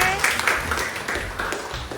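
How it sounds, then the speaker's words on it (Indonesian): Applause for a student named Sydney in a classroom, a steady crackle of many hands clapping together at moderate loudness, with a few voices mixed in underneath. "tepuk tangan buat Sydney"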